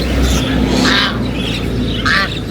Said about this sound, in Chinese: 这还有个大鹅呢